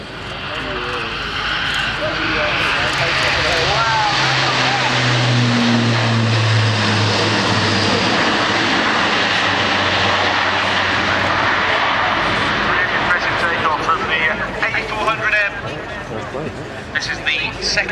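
An Airbus A400M second prototype with shaped propeller blades flies a display at RIAT 2010, its turboprop drone loud and continuous throughout, with a low engine tone swelling mid-pass over a broad roar and crowd voices beneath.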